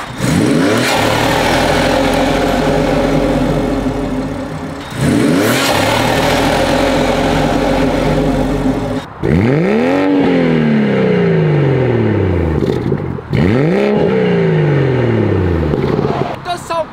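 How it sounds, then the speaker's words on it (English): BMW engine after a hot climate modification, revving hard with turbo flutter, in several loud, close rises and falls of pitch, each ending in a quick drop. "it's probably a placebo effect, but the turbo flutters definitely sound louder now"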